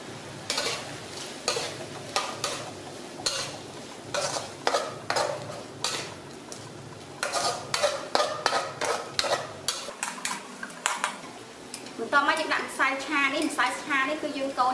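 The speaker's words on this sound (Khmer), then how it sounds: "គឺយើងកូរជាមួយទឹកឲ្យរួចហើយសិនទៅ" Beef lok lak being stirred in a frying pan, with repeated scraping and clinking of a utensil against the pan over a steady sizzle, louder frying bursting up near the end as talk carries on alongside.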